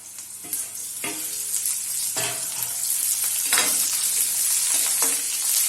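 Pointed gourd and green chilies frying in hot oil in a kadhai, a steady sizzle with repeated scraping stirs of a spoon, close and fairly loud, no talking.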